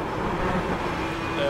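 A turbocharged GTE race car in the iRacing simulator at Le Mans gives a steady, droning engine note that holds evenly throughout with no clear revving.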